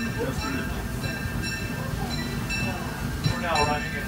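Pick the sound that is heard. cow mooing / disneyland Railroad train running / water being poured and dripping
disneyland Railroad train running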